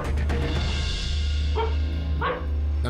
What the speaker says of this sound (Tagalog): maririnig ang sunod-sunod na pagtahol ng aso na si Buddy.